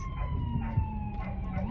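An ambulance siren wails steadily behind, its tone slowly sliding as it passes, moderately faint over a background of traffic noise.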